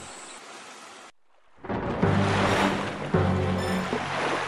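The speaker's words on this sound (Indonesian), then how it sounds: "angin bertiup kencang dan menggoyangkan sebagian badan" Strong wind and waves rock a ship at sea, a dense, broad roar of rushing wind and water that cuts out briefly, then surges back and grows louder.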